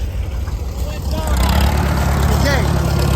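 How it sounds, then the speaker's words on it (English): A tractor engine idles and rumbles at a plow day, a steady low drone that swells slightly louder partway through, with faint voices mixed in. "We'll catch the next tractor here."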